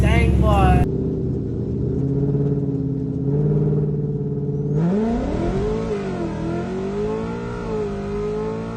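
A Ford Mustang engine turns over and catches, then settles into a rumbling idle before rising in a couple of throaty revs, loud and close, with a voice speaking over it briefly.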